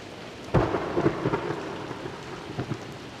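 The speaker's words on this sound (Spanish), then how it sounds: "Debo decir que la lluvia también nos acompaña." Rain and rolling thunder around a rustic mud house in San Fernando, with a sharp thunderclap early followed by grumbling rumbles over steady rainfall.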